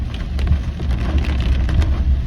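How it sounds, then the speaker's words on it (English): Hard rain pours down during a storm as a dense, loud, continuous hiss with scattered heavier spatters of drops on a surface, close by and with no talking. "I just wanted to show you some of this hard rain"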